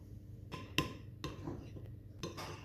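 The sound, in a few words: stirring melted chocolate and butter together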